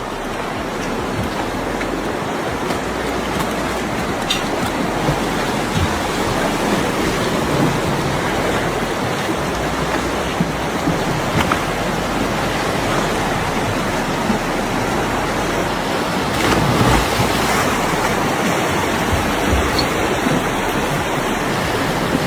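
A fast, intense current in a cold, 9-degree river in Dagestan gives a steady, loud, full roar of rushing water that holds unbroken for over twenty seconds with no voices.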